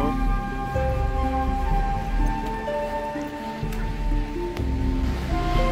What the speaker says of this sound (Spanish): Pues ya vemos cómo se va oyendo la cascada, que debe bajar impresionante